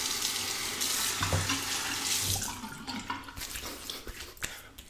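Tap water runs over a razor at a bathroom sink, a steady hiss with splashy bursts as the blade is rinsed, loud at first and then thinning into uneven trickles and drips.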